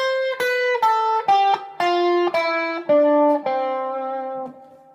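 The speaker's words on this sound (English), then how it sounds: "And Aeolian sounds like this." Electric guitar plays an A Aeolian (natural minor) scale on the top three strings, about nine distinct notes stepping steadily in sequence and ending on a fading sustained note, close and alone.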